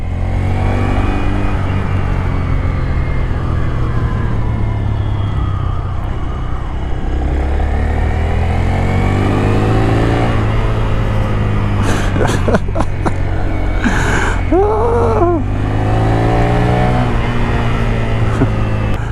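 A Honda Grom small motorcycle engine hums steadily up close as the rider runs in second gear and tries for higher gears, with a brief rise in revs and wind noise near the end, while someone talks over it.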